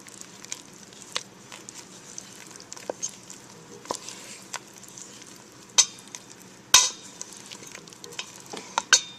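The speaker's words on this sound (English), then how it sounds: "I just want to stir this into my soft bread cubes" Soft bread cubes are stirred into a mixture of brown sugar and margarine, giving a steady wet scraping with occasional sharper clicks of the utensil against the bowl.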